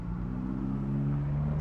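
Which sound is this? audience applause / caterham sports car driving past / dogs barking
caterham sports car driving past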